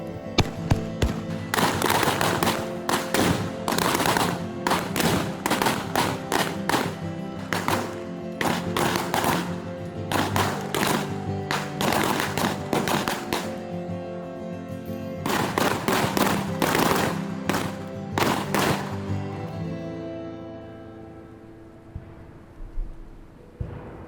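Gunfire in a western battle scene: rapid volleys of sharp gunshots crackling in dense bursts, a pause, then another heavy volley that thins out into scattered shots and fades.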